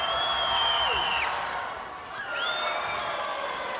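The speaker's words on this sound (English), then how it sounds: "The home crowd certainly making the noise." A home crowd roars through a professional NBL basketball game between Tauranga Whai and Manawatū Jets, a broad sustained wash of cheering with whistles and tonal squeals riding on top, dipping briefly before swelling again.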